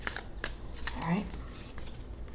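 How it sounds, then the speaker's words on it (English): A deck of tarot cards being shuffled by hand, a soft papery riffle and flutter, close and quiet with no talk over it. "So, we've shuffled once, we'll shuffle twice more."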